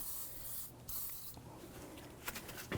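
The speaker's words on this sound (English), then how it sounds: "And first I'm going to just spray this." Spray bursts inside a 2-inch leveling riser for a 1997-2006 Jeep Wrangler, a few short hissing blasts close by with quiet pauses between them.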